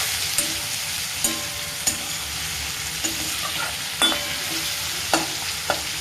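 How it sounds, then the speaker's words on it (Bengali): Onions fry in a pan, a constant soft sizzle broken by regular clicks and scrapes of a spoon stirring, fairly quiet and with no voices. "আমি আগে পেঁয়াজটাই দিই, একটু ভাজা হলে তারপরে আমি রসুনটা দিই"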